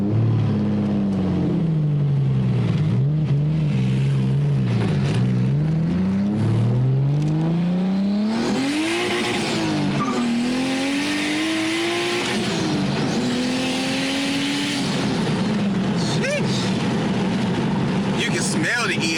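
A turbocharged BMW E36 328i four-door sits close by and loud, its engine revving in a steady drone that climbs and falls through several swells, with turbo whine and voices underneath.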